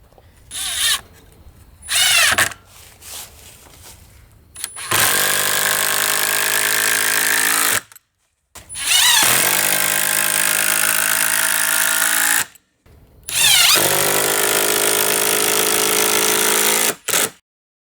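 A power drill drives 2.5-inch screws into workbench boards in three long, loud bursts of steady whirring, each lasting several seconds. Short pauses and a couple of brief blips separate them.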